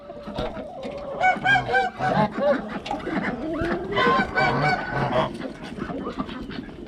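Several geese at a small home zoo honk loudly and repeatedly at close range while eating cabbage, a noisy overlapping chorus of harsh calls with a voice talking underneath.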